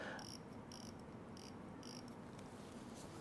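The large ratchet of a big watch movement clicks as it is wound, giving a faint, steady series of short bright clicks about twice a second over a soft hiss.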